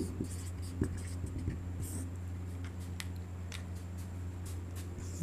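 Pen writing notes on paper during an exam-prep lesson, a soft close scratching with brief strokes and taps over a steady low hum, no speech.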